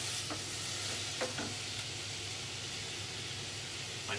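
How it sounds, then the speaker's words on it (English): Aubergine goes into a pan of ratatouille vegetables and fries with a soft, steady sizzle, faint and close, broken by a few brief scraping stir sounds. "And add our aubergine to the ratatouille mix"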